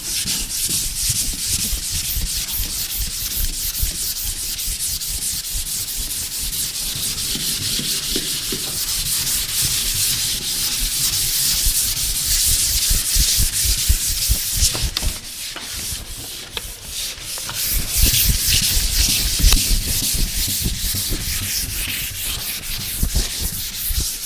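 A painted interior wall being sanded by hand with sandpaper gives a steady, loud scratchy rubbing that runs continuously for the whole stretch, with only a brief slackening partway through before the strokes resume.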